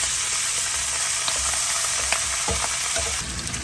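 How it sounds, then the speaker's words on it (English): Olives and penne pasta frying in oil in a pan while camp cooking, a steady loud sizzle with light stirring scrapes and taps near the end, close up and with no voices. "Now we're just going to throw in our olives. Then once they've warmed up just a little bit, throw in your pasta."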